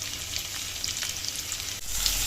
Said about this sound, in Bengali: এখানে প্রথমে একটু গাজরগুলো একটু ভেজে নেই। এখন ক্যাপসিকাম দিয়ে দিচ্ছি, আর সাথে টমেটো দিয়ে দিলাম।